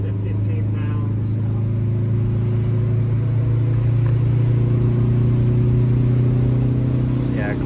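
A bus engine labors up a grade, a loud steady low drone with a strong constant hum and no change in pitch, heard close from inside the vehicle.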